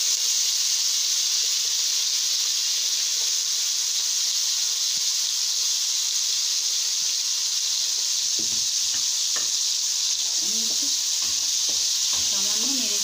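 Prawns frying in hot oil in a wok give a steady, loud hiss and sizzle throughout. A few scraping stirs sound near the end.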